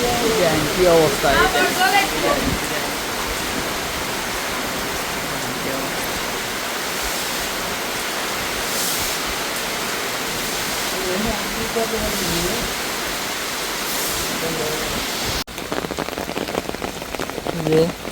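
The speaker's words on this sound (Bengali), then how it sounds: "রাতের বেলায় ঝড় বৃষ্টি শুরু হয়েছে" Heavy rain pouring during a storm at night, a loud dense steady wash of falling water close by, with a faint voice briefly under it.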